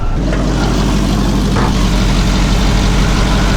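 A truck engine idles close by with a steady low rumble and a faint whine layered on top, loud and unbroken for a few seconds with no talking.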